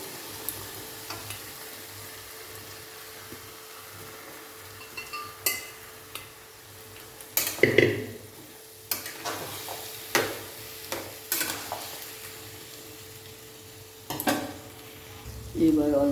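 Salted boiled potatoes and chana masala are stirred in a pan, giving scattered scraping clinks of a spoon against metal over a faint low sizzle, with quiet gaps between strokes.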